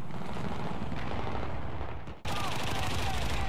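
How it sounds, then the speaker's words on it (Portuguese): Dense battlefield combat in Battlefield 4 during a large Conquest match on Siege of Shanghai: continuous loud gunfire and machine-gun bursts with booming explosions. The roar drops out briefly near the middle, then resumes at full intensity. "É tiro, é bomba, é tudo."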